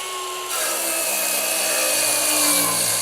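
A Festool HKC 55 18-volt brushless cordless circular saw spins up and bites into wood while running along a guide rail, a loud steady whining rip that holds for a few seconds.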